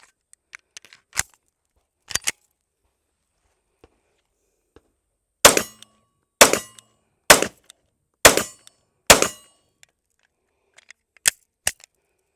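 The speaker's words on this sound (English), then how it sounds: "SIG P320 Equinox, chambered in 9mm" Gunshots from a SIG P320 Equinox Custom Works 9mm pistol: about eleven sharp, loud reports outdoors, a few spaced single shots, then a quick string of five, then two more, with nothing in between.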